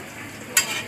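Sweet tongue pork sizzles as it is gently fried in a hot pan, a soft crackle swelling into a brighter hiss as it is stirred.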